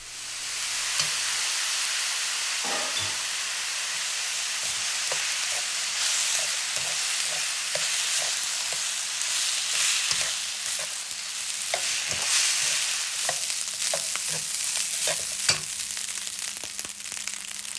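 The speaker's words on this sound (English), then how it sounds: "Mix in the soy sauce and stir fry until the rice is evenly coated with the soy sauce." Rice stir-fried with soy sauce in a pan for Spam fried rice, a continuous close sizzle and hiss broken by frequent scraping and tossing strokes of a spatula, with no voices.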